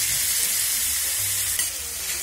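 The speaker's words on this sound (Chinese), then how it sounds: "大火快炒几下即可调味" Shredded potatoes, rinsed in water, stir-fried over high heat in a wok with chili or green pepper strips, giving a loud, constant sizzle with the scrape of stirring.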